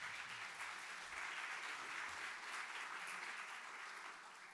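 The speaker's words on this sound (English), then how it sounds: "all that clapping is going to be even more deserved in a few minutes" Sustained audience applause filling a hall at the Aspen Words Literary Prize award ceremony, dense steady clapping from a large crowd that holds evenly throughout and tapers slightly at the end.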